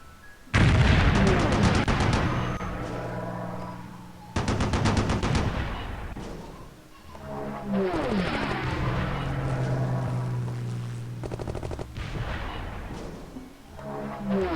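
Explosions and rapid fire in Civilization III as barracks are blown up in a World War 2 scenario, several long booming bursts with rattling, gun-like bursts between them, loud and close.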